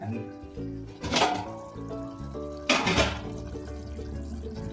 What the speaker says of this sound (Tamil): தண்ணியை ஊற்றி நல்லா தேய்ச்சி குக்கரை கழுவி